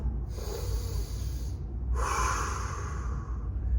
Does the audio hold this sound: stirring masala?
no